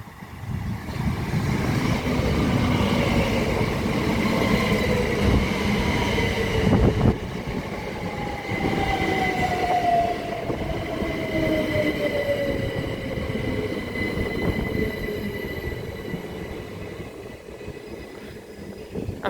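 A pair of Class 377 electric units runs fast through East Malling station, a loud rushing rumble of wheels on rail with metallic squeals and a falling whine as the train passes close and then fades.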